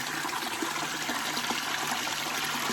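Water running steadily from a tap at a hot spring, a continuous close splashing trickle with no speech.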